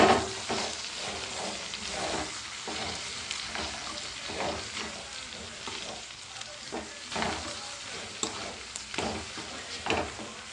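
Curry (pulusu) with salt is mixed in a pan, with steady soft scraping strokes over a light frying sizzle, fairly quiet and close.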